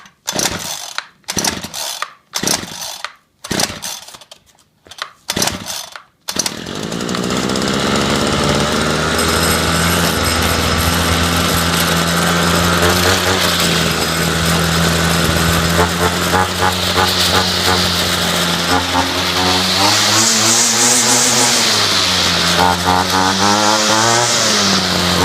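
A Ryobi CS26 gas chainsaw is pulled several times from cold on choke, giving sharp rapid starter-cord bursts, then fires and runs loudly and steadily up close, its two-stroke engine revving up and down near the end.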